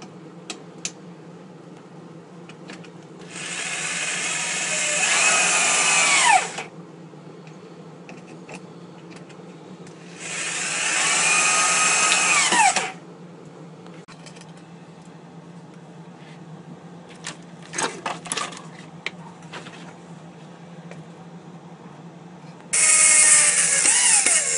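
A power drill bores into the wooden roof of a small bird house in three loud, steady bursts lasting a few seconds each, separated by quiet pauses with faint handling clicks.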